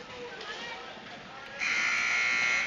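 A loud electric buzzer sounds the end of a period at an ice hockey game between the U Bulls and the Columbus Cottonmouths, breaking in sharply over the arena's crowd murmur and holding steady to the end.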